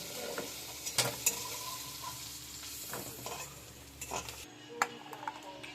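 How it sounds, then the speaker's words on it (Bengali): Potatoes frying in hot oil, after prawns, for a jackfruit and prawn dish: a soft, fairly quiet crackling sizzle with a few sharp pan and utensil clicks. "আলুগুলো ভেজে নিচ্ছি তেলের মধ্যে"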